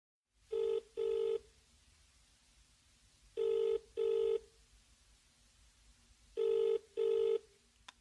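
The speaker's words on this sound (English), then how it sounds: "He is phoning her for directions." A telephone rings in three paired double-ring bursts, evenly spaced and fairly clear over a quiet line hiss.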